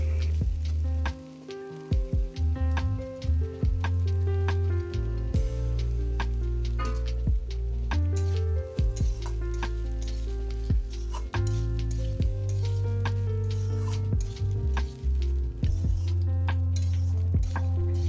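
Rice and vegetables being stirred with a metal spatula in a hot pan, repeated scraping clacks of the spatula against the pan over a constant sizzle, close and busy throughout.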